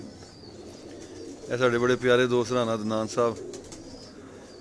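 High flyer pigeons coo in a close, rhythmic run of throaty, rolling calls that lasts under two seconds, with a voice speaking at a Pakistani pigeon-keeping gathering.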